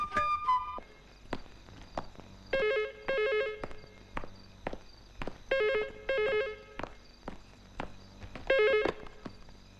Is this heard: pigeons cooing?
no